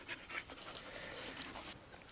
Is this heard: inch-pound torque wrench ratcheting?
no